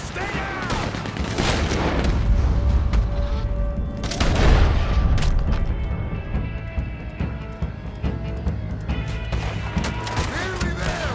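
Machine gun fire during a Saint Denis bank shootout in Red Dead Redemption 2, with rapid bursts and booming shots continuing over the whole stretch, loud and close, while brief shouted talk is heard.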